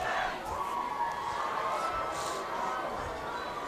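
Burlington student body fills the stands at a home high school football game against Woburn. Their crowd noise is a steady, continuous roar of many voices, mid-distance, with no clear peaks and no break across the stretch.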